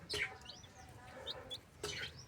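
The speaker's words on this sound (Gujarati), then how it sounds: "આપણા ચિક્સ એટલે ટર્કી" Young turkey chicks at a mini zoo give a few short, high chirps and peeps in quick bursts, fairly close, with no talking.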